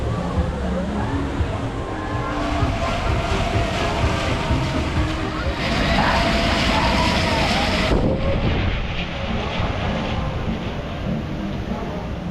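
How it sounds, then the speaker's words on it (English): The Alpine Express mine train coaster at Europa-Park rumbles and roars along its track, a loud continuous rush of wheels and wind with a brief swell partway through. "So we have just been on the mine train. Alpine mine train."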